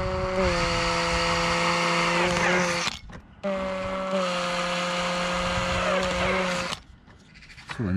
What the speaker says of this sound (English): Let's carry on drilling.